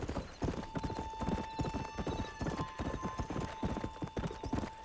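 Horse hooves clip-clop at a steady trotting rhythm in the Western video game Red Dead Redemption, close and clear over a faint background tone.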